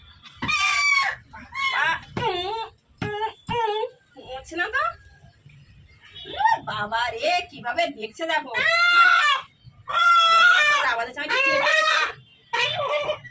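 Desi black chickens cluck and call repeatedly at close range in short, bursty vocalizations, with a person talking among them.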